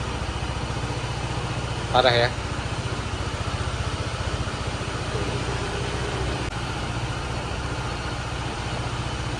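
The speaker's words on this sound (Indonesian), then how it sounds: "Setiap gue nyalain dia getar banget motornya." A 2022 Honda ADV 160 CBS scooter idles with heavy vibration, a steady, close, low rumble running throughout, with a brief spoken remark near the start.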